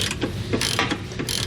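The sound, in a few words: loosening 21mm nuts on truck bumper for trailer hitch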